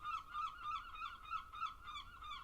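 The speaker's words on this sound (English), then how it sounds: "Noisy seagulls." Noisy seagulls give repeated rapid squawking calls in a steady chorus, faint and somewhat distant, with no voices.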